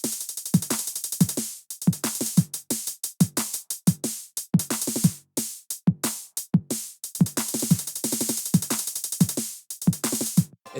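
Punchy dance drum beat built from 707 and 909 drum machine kits: steady repeating kicks and snappy hits with bright hi-hats in a driving, even pattern, no talk.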